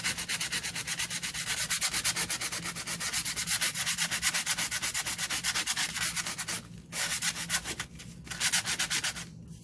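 Steady back-and-forth sanding of a gothic journal page, a continuous rhythmic scratchy rasp with brief pauses near the end, close and alone.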